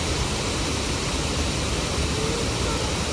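A small waterfall on the stream by Nora Mill Granary, a grist mill in Helen, Georgia, giving a steady close rushing hiss of falling water, even and unbroken throughout.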